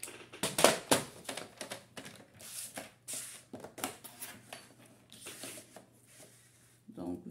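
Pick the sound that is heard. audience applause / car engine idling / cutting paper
cutting paper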